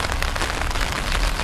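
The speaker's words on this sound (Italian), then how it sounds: "sotto la pioggia torrenziale del 29 aprile" Torrential late-April rain in Montelibretti pours down steadily as a dense, loud, unbroken hiss of drops hitting surfaces, with no voices.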